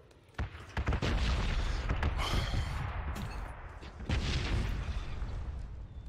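Red zone bombardment in the battle royale game PUBG lands as heavy booming explosions. A sharp blast opens it, then a dense rumbling barrage rolls on, and a second loud surge follows midway.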